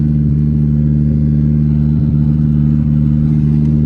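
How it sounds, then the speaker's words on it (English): Honda Accord engine running in first gear, a steady loud low hum with a strong harmonic drone throughout and faint clatter, close and alone with no talk. "So I just started it in first. But we're driving the Honda Accord!"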